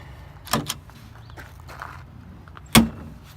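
A Honda Pioneer 500 UTV door latches shut with a sharp, loud click-clunk near the end, after a softer handling knock earlier; no voices.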